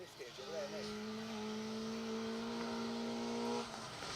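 A 1400S MG ZR rally car runs along a rally stage, its engine holding a steady, droning note at some distance for several seconds before it fades slightly.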